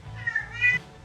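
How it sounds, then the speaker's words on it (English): A short, soft cat meow, drawn out and rising slightly, heard close by against a quiet low hum. "That's my cat, Nabby."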